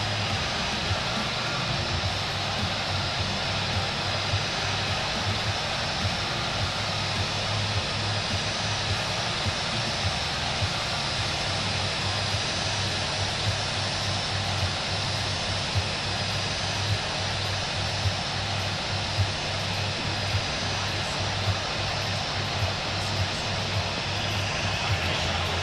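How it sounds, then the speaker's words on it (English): An airliner's number 1 engine spools up in the Infinite Flight game, a steady broadband roar with a low droning hum holding evenly throughout. "Go ahead, start the number 1 engine."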